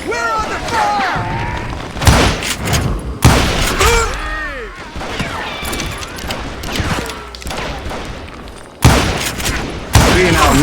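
Gunfire in the Western shooter game Call of Juarez: loud, sharp shots burst out repeatedly and irregularly, some in quick clusters, under shouting voices and overlapping game chatter.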